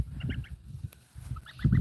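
Sebastopol goose gosling calling in short high peeping bursts, clustered near the start and end with a quieter gap between, fairly close and alone with no talk.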